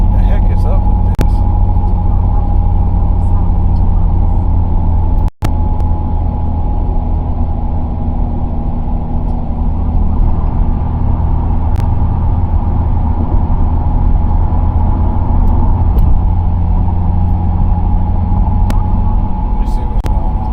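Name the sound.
car shaking and rumbling while driving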